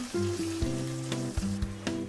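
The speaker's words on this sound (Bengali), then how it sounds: "আমরা এটা ছাঁকা তেলে ভাজবো।" Potatoes deep-fry in a kadai of hot oil with a steady, close, crackling sizzle and occasional louder pops, and no voices.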